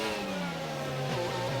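Racing car engine in a sim race, steady mid-pitched drone with shifting pitch as the car accelerates and changes gear, continuous and fairly close, no talk.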